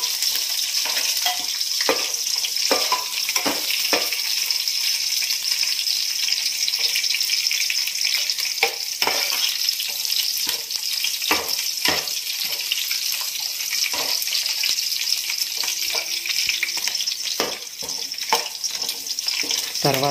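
Onions frying in oil until brown for mushroom biryani, a steady dense sizzle running throughout with frequent sharp scrapes and clicks of stirring, close and fairly loud, no voices.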